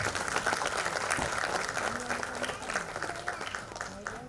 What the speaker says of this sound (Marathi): जरा जोरदार टाळ्या